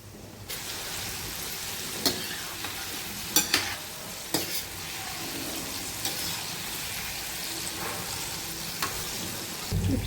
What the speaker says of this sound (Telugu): ఇప్పుడు ఈ ఉసిరికాయలు ఇట్లా లైట్ గోల్డెన్ బ్రౌన్ కలర్లో వేయించాలి